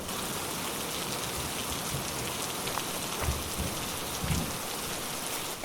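A rainstorm in a cartoon scene falls as a steady, moderate hiss of rain on surfaces, with faint low rumbles suggesting distant thunder and a brief louder bump at the very end.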